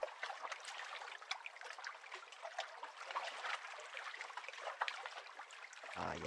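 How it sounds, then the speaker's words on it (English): Ocean ambience from a video game scene built in Unity: a soft, fairly faint wash of water with trickling, bubbling texture that continues steadily, with no voices. "here's the ocean real quick. Let me just hear that for a second."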